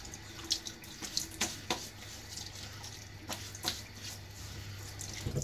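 Tap water running softly into a sink while a razor is rinsed, a steady low trickle broken by small splashes and clinks, faint and close, with no talking.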